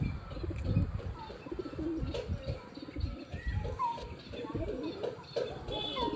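Pigeons coo nearby in low, repeated, throaty bursts, with some faint chirps mixed in.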